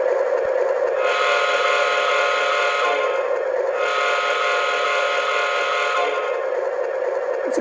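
Horn of a Menards O gauge Chicago Northwestern diesel locomotive model, sounding as two sustained, loud chord blasts with a brief dip between them, each carrying a hissy, steady tone.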